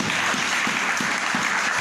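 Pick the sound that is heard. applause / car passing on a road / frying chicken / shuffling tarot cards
applause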